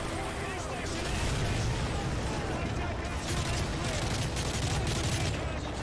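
Heavy combat in Call of Duty: Modern Warfare 3 as a grenade goes out, with a dense continuous rumble of explosions and gunfire. A player talks over the din.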